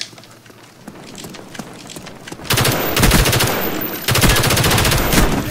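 Rapid bursts of automatic gunfire from a Call of Duty Black Ops multiplayer match, starting with scattered distant shots, then loud sustained volleys close by in two long runs.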